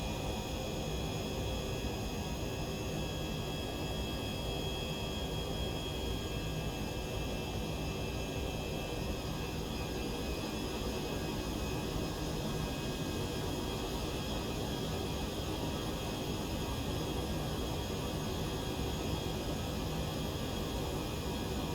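Steady, dense roar of an MD-11F freighter cruising over London in the X-Plane 12 flight simulator, a continuous even engine and airflow drone with no change in level.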